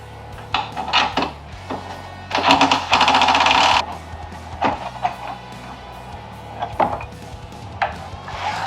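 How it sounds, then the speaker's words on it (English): Wrenches working the bumper bolts on a Club Car golf cart: sharp metallic knocks and a dense burst of rapid ratcheting clicks midway, close and fairly loud over a low steady hum. "We're gonna remove this bumper, and to do that you need a 10mm wrench for the top and a 13mm for the bottom."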